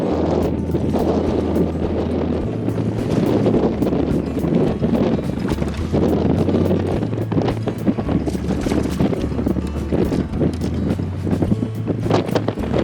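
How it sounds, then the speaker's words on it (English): Strong wind blows over a lake during a fishing trip, a loud, constant roaring buffet against the microphone with a low rumbling drone underneath and scattered knocks and rustles. "this wind is blowing big. I don't know how this audio is going to work out"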